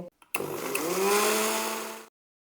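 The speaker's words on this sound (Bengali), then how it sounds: "একবার আমি মিক্সিটা ঘুরিয়ে নেব" A mixer grinder whirs through cake batter made with nolen gur (date palm jaggery), a couple of clicks, then a steady loud motor hum that rises slightly in pitch and cuts off abruptly near the end.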